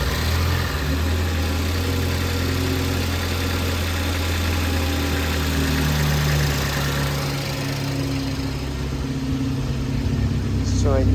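A Ford Focus ST engine idles steadily and fairly loud, with a constant low hum and even rumble throughout and no noticeable rise or dip in speed.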